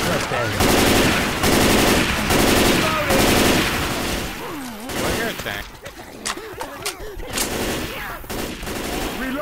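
Rapid automatic gunfire and bursts of shots from Left 4 Dead 2 gameplay, loud and dense for several seconds, then thinning into scattered shots and impacts, with players talking over the action.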